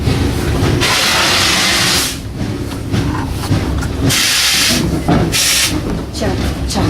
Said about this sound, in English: There's the choo-choo. You hear it?